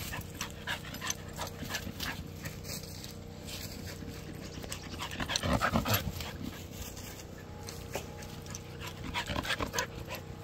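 A dog pants quickly and close by, with soft whimpers and small movement noises. The level is fairly quiet, rising briefly midway.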